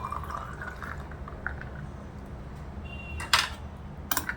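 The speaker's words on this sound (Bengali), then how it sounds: "এবারে তরমুজের শরবতটা ঢেলে দিচ্ছি" Watermelon sherbet seasoned with chaat masala pours into a glass, a soft liquid trickle over low background hum ending in a couple of brief splashy bursts near the close.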